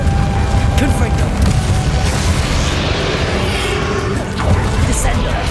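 A fiery Confringo spell blast erupts in the Hogwarts Legacy video game, a loud booming burst amid continuous battle noise with crashes and rumbling, and a voice calls out over the action.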